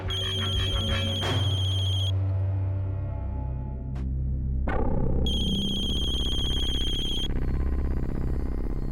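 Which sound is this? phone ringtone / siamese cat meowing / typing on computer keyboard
phone ringtone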